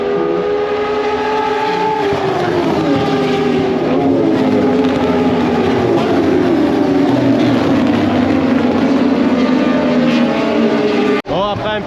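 Moto2 racing motorcycles howl around a circuit in Indonesia on an opening lap, a loud sustained engine roar shifting pitch as bikes pass near, with a brief abrupt break near the end.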